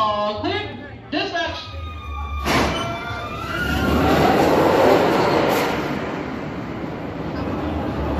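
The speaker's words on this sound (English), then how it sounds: "The train is rapidly approaching the station." Montezooma's Revenge roller coaster train rolls toward the station with a rising rumble and clatter that swells mid-clip, under a loud recorded announcement voice.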